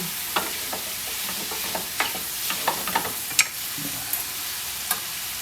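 Shrimp fry in a hot pan for a pesto pasta dish, giving a continuous bright sizzle with scattered crackles and pops and occasional utensil clicks.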